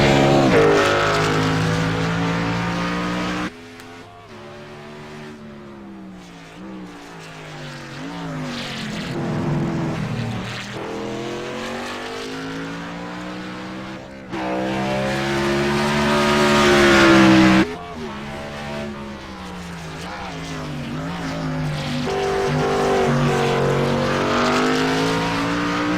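Class B Mustang race cars lapping a track: loud, sustained engine roar with rising and falling pitch through gear changes, passes swelling close and then dropping to a more distant drone.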